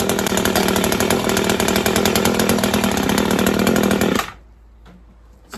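A repaired grass cutter's small engine revs loud and close with a steady buzzing drone, then cuts off abruptly, leaving quiet with a few faint clicks.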